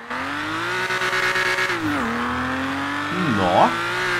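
Nissan Skyline in GTA RP accelerating hard, the engine note climbing, dipping at a gear change and then rising again with a brief tire squeal near the end, loud and close.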